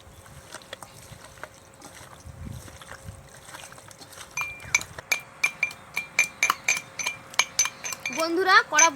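A metal wok is set on a stove and mustard oil goes in while cooking a country chicken dish at a village picnic. Scattered clinks give way to a rapid, steady run of sharp metallic taps that grows louder toward the end.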